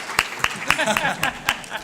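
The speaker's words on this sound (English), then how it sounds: "Let's give our panelists a round of applause, please." Audience at a tech innovation conference claps for the panelists, a short burst of sharp, spaced-out claps from a small crowd, fairly close.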